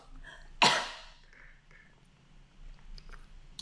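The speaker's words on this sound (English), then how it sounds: "Sorry, I need to cough." A single sharp, explosive burst from a person close by, then quiet breathing and small mouth sounds.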